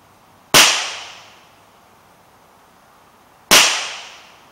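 Two sharp, loud reports from a short-barrelled Ruger Mark II pistol firing CCI Black Box .22LR subsonic rounds, spaced about three seconds apart, each with a brief decaying echo.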